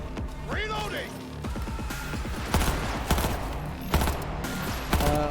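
Scattered gunshots from a Cyberpunk 2077 firefight pop out as sharp cracks amid dense game noise, with people talking steadily throughout.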